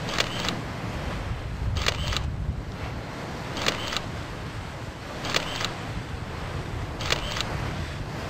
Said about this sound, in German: Die Auslöser klicken, was das Zeug hält.